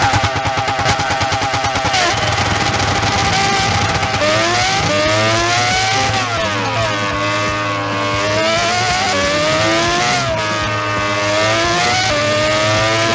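A Red Bull X2010 race car in Gran Turismo 6 at Goodwood screams loud and steady, its engine note rising and falling through gear shifts and throttle changes, with no other sound on top.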